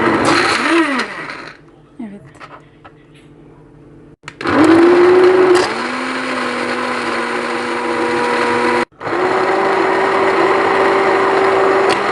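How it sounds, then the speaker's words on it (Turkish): A loud blender motor whirs in bursts, stopping and restarting with rising pitch as it purees food for baby puree, close by; brief quiet gaps between runs. "İyice blenderdan geçtim."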